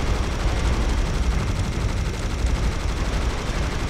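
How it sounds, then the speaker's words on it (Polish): Rocket launchers fire steadily in the Serious Sam game, a dense, continuous roar of overlapping launches and blasts with no pauses across the few seconds. "tutaj te rakietnice strzelają"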